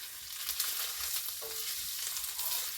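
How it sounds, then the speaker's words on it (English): Two pans of orange juice sauce reducing on the stove, stirred together, give a steady close sizzle and bubbling with soft scraping strokes throughout, no voices. "I'm actually stirring both things at the same time"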